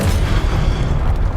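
Incendio fire spell cast in the video game Hogwarts Legacy, a loud, sustained low roaring burst of flame filling the whole moment with steady rumbling energy.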